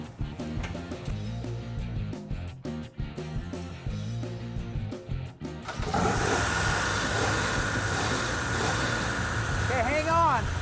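A 1970 Hemi Challenger engine runs with a loping, uneven rumble that shifts into a steadier, fuller idle midway, close and continuous, with a voice speaking briefly near the end.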